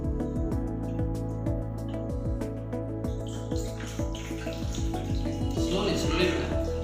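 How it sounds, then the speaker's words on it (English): Hot water poured slowly onto a shrink balloon, a near, trickling splash with rapid drips and gurgles running throughout, ending in a brief burst of bubbling. "Please pour some hot water."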